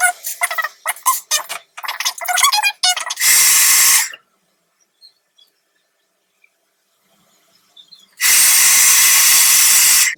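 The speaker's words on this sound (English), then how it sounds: "now I'm gonna take my hairdryer and then just go over it again" A hair dryer gives two bursts of loud, steady, airy blowing, one short and one longer, separated by a quiet pause, after a stretch of brief rustling noises.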